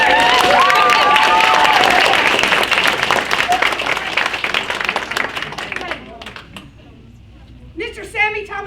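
Audience at a high school adaptive theatre class performance applauds the crew, loud and dense for about six seconds before thinning out and fading, with a few voices emerging near the end.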